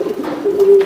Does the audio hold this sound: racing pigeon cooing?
yes